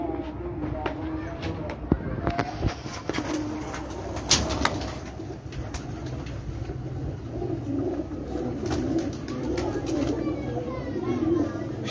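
Pigeons in a rooftop loft coo in soft, repeated low calls with occasional wing flaps, over steady background noise and faint voices.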